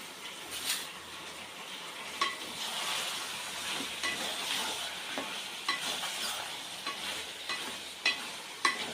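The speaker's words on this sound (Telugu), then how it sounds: "ఇప్పుడు చికెన్ వేసేద్దాం. చికెన్తో పాటు అల్లం వెల్లిగడ్డ కూడా వేయాలి" Country chicken pieces frying with ginger and garlic in a pan, a continuous close sizzle with intermittent scraping and light clinks of a spoon stirring against the metal.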